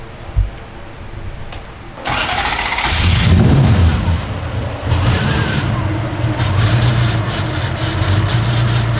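A 1UZ V8 swapped into a Nissan 240SX catches after a few faint clicks, then settles into a loud, steady idle with a brief rev in the middle, running alone without talk.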